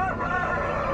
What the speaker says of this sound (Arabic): هذا هو الدجاج الياباني القزم